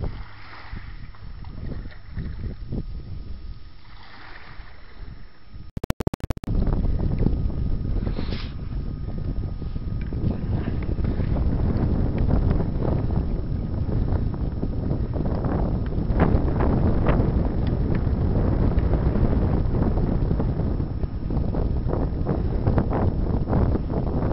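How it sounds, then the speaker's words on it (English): North wind at sea off Cornwall while kayaking, gusting wind buffets the microphone with a heavy, continuous roar and low rumble, loud and close, after a quieter opening with water sounds. "A bit of a north wind blowing at the moment, fairly cold"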